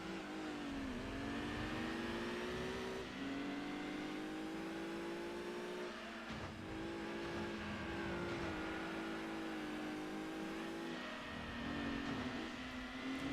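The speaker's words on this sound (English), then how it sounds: "get used to hearing this engine, because this is the Pikes Peak Escudo engine." Suzuki Pikes Peak Escudo race car engine in Gran Turismo 2, a steady high-pitched revving drone that rises through gears and dips between shifts, continuous and alone.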